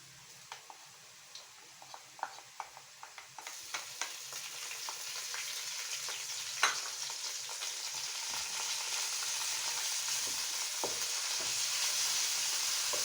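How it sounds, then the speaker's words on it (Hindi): Ginger-garlic paste sizzles and fries in a pan for macaroni, with light scraping and tapping from a stirring utensil at the start, the frying hiss growing steadily louder and closer, no voices. "इसमें हमने ये अदरक और लहसुन का पेस्ट मिक्स कर देना है"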